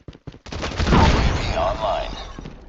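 A frag grenade goes off in a video game: a couple of sharp clicks, then a loud, rumbling blast that swells and slowly decays over about two seconds.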